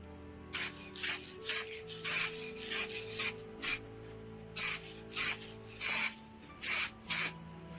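Spray gun laying light coats of paint on a car body around the sunroof area, a series of about ten short, loud hissing bursts in an uneven rhythm, with no talk.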